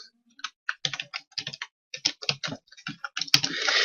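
Domain name typed on a computer keyboard, a quick close run of crisp key clicks in uneven bursts, ending in a louder tap followed by a rising hiss.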